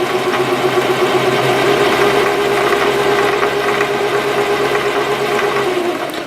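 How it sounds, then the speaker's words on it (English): A sewing machine winding a bobbin hums in a steady, continuous motor drone at close range, holding an even pitch throughout with no talking. "And now continue to wind up that bobbin."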